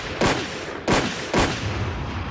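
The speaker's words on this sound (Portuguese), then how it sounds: "Não um tiro, não 2, não 3 tiros." Three sharp gunshots fired in quick succession, each a loud, abrupt crack with a short echoing tail, evenly spaced about half a second apart with no voices.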